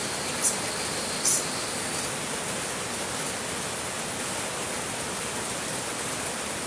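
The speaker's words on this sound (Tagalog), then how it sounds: "Umuulan, yes." Steady rain falls with a dense, even hiss, constant throughout and uninterrupted, with a couple of faint high clicks early on and no voices.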